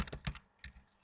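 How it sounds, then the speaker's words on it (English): Fingers type a search term on a computer keyboard in a short, close burst of crisp clicking keystrokes, falling into two quick clusters. "I can just type this in as a search"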